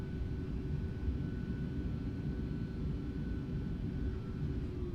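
Jet airliner engines on a FedEx cargo flight in Microsoft Flight Simulator, a low, steady rumbling roar with a faint whine above, constant and fairly quiet throughout.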